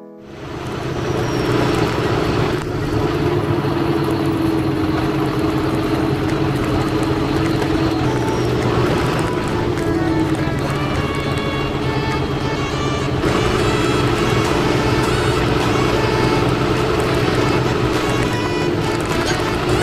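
Tractor engine running steadily throughout, heard from inside the cab on a hot day during a rushed field job, a loud continuous drone with broad rumble and hum, no pauses.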